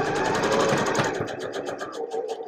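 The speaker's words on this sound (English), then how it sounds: "I'm just going to sew 1/4 inch along the seam here" A sewing machine stitches a quarter-inch quilt seam for a star block with Y seams, its rapid needle chatter running steadily and close up before easing to a slower pace near the end.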